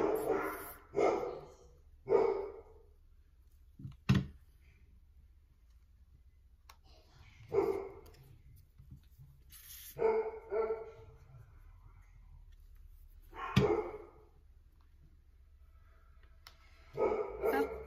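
Dogs bark in scattered short bursts with long quiet stretches between, a couple of sharp clicks among them.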